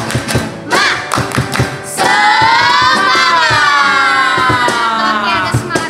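Children at an online Sunday school service do a spirit clap, a fast, loud pattern of rhythmic hand claps and thumps that gives way to a sustained group chant or shout.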